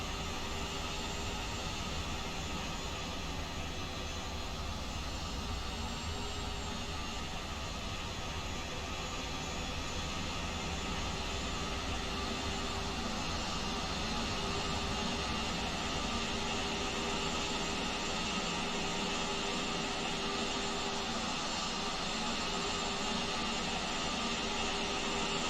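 Steady, unbroken engine and airframe drone from an Airbus A320 turning around on the runway in the X-Plane 12 flight simulator, a continuous broadband roar with faint tonal hum that stays level throughout.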